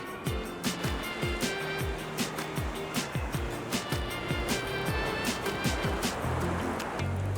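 Surf breaking on a beach during bait fishing from shore, a loud continuous wash of water with repeated rhythmic thumps and rushes throughout, close and steady, with no speech.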